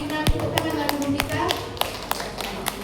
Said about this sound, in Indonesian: Tepuk tangan buat Tina